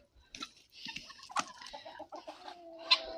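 Cochin chickens clucking in a backyard flock, several close, irregular clucks and short calls from more than one bird, with quieter pauses between them.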